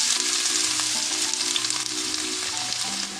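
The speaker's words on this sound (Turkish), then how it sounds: "Küp küp doğramış olduğum soğanları tavaya alacağım." Diced onions sizzle loudly in hot oil in a pan, a dense, constant frying hiss with a faint hum underneath, close and uninterrupted.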